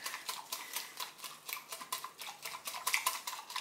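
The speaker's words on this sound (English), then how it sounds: "And you just want to stir. Keep on stirring until there's no like lumpy bits in there." A spoon stirs a mixture with water in a bowl until smooth, making a steady rhythmic run of light scraping and clinking strokes, close and fairly quiet, with no talking.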